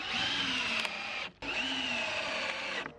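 A power drill runs in two sustained bursts, driving screws into wooden treehouse stairs, with a steady whirring whine and a short pause between runs, close and loud.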